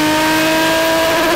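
A turbo diesel engine in a Mercedes S123 revving hard and steady at high pitch, a loud sustained roar close by with no talking.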